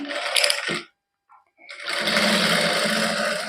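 A sewing machine stitches a kameez neckline, running in a short burst, stopping for a moment of near silence, then starting again with a loud, steady whir, close up and without speech.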